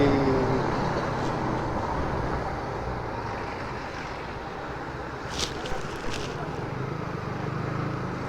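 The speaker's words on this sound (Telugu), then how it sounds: "ట్రాఫిక్ జామ్ అయ్యింది" Steady roar of congested highway traffic at a signal near Tanuku, a continuous broadband rumble with wind buffeting and a few faint higher engine or horn accents, no voices.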